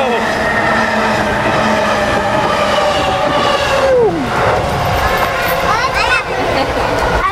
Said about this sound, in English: Whoa, that train goes right by.